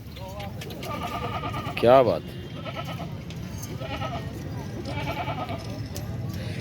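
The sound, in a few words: goat bleating at livestock market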